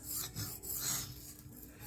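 Small knife drawn freehand across a small Norton India sharpening stone, a steady close gritty rasp that rises and falls with each stroke, no talk.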